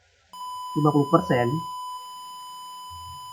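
An IoT dry-soil warning system's buzzer sounds a steady, continuous electronic tone that holds unbroken for about three seconds, with a short stretch of speech over its start.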